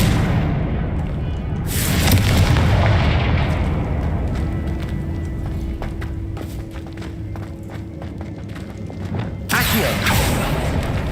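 Confringo spell explosions in the game Hogwarts Legacy come as heavy, continuous booming blasts with dense rumble, loud and near, mixed with clattering game effects and faint footsteps.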